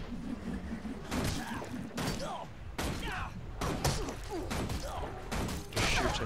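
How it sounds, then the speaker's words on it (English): Repeated heavy turret shots and impacts in the video game Guild Wars 2, a series of punchy bursts about once a second with whooshing effects in a busy game mix. "I'm gonna shoot him off my turret, just because"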